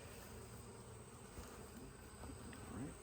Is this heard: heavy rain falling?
no